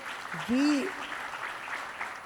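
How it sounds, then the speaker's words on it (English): An audience at a telecom manufacturing conference breaks into a short burst of applause, a broad wash of clapping heard under a brief voice and a faint whistling tone from the room's sound system. "I want all of you to clap for our private industry together"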